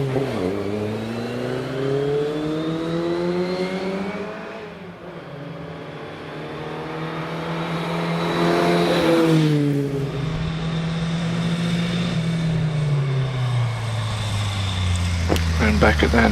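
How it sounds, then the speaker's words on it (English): Austin 7 Simplicity race car, road registered, launching off the line at the Prescott Historique hillclimb, its small engine revving hard and rising in pitch through the gears, loud and close, with commentary running over it. "As Graham Beckett gets off the line in the Austin 7 Simplicity"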